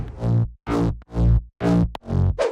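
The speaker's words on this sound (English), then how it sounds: "Mid bass without effects sound like this." Five sustained bass house synth mid bass notes, clean and round with rich harmonics and no distortion or effects, played in a slow steady pattern with brief pauses between them.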